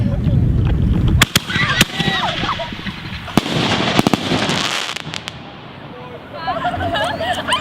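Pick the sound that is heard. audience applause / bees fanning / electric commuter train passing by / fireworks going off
fireworks going off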